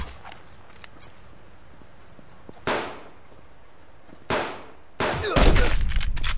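Hunters in the survival hunting game Subsistence fire guns near a large lake. Two separate loud shots ring out and fade, then a third shot leads straight into a dense, crackling burst of gunfire.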